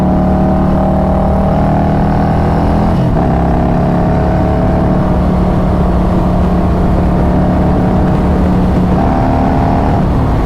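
A Harley-Davidson Road Glide motorcycle engine runs loud and close with a steady, deep droning rumble, and the throttle blips slightly partway through.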